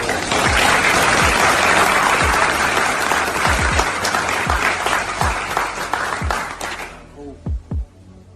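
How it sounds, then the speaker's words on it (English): Audience breaking into loud, sustained applause with dense clapping and crowd noise, cutting off sharply near the end, leaving a few scattered claps. "So let's clap it up, TC."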